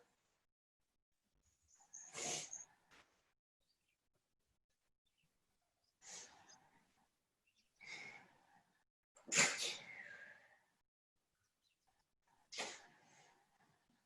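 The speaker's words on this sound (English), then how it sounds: "why do I keep sneezing every second?" Five loud sneezes burst out one after another with quiet pauses between them, sharp and close.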